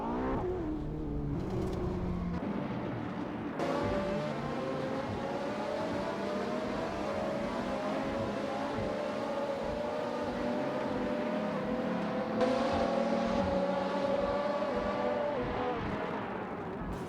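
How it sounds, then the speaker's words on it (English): Race car engines in an AI-driven racing video game, the field including a 2007 Chevrolet Corvette C6 Z06: a continuous, steady drone of several engines rising and falling in pitch as they rev and shift, with no talking. "We're diving into some thrilling AI car racing today"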